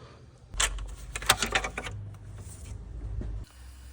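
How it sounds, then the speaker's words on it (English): A rapid burst of sharp, rattling air chisel taps hammering loose the fan on a Ford Ranger during a timing belt job, about three seconds of close metallic chatter followed by a low hum. "just got the air chisel on there and give it a few taps and managed to loosen the fan off"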